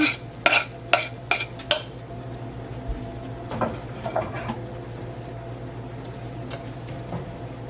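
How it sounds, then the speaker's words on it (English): Peppers and meat cooking together in a pot for chili, stirred with a utensil that gives a few sharp clinks and scrapes against the pot at first, then softer scattered knocks over a low steady background. "I just throw the peppers in and cook it with the meat."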